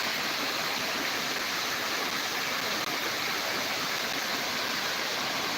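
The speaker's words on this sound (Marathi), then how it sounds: "असंच पांढरं शुभ्र पाणी पडत असतं वरतून खाली" A steady, dense roar of a monsoon waterfall pouring white water from above fills the scene continuously, loud and unbroken, nearby.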